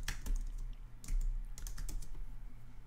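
Rapid typing on a computer keyboard while entering a blog site title, a close, dry run of clicking keystrokes with brief pauses, heard alone without talk.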